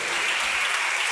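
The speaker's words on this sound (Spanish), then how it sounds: "Un aplauso al Señor por esto." A church congregation claps during a Spanish-language sermon, producing a dense, loud, continuous burst of applause that fills the short moment without any talk.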